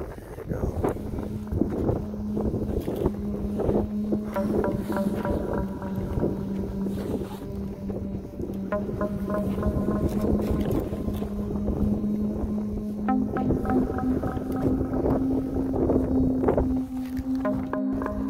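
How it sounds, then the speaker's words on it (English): Strong wind by Lake Michigan roars and buffets the microphone continuously, with a low steady engine-like hum underneath and no speech. "It's really windy out here."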